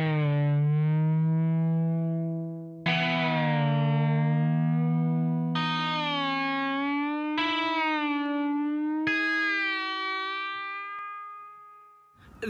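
A gliding electric guitar melody through the GAZE plugin, sustained distorted notes with chorus-like shimmer whose pitch dips down and bends back up, several long held phrases, loud and alone with no talking.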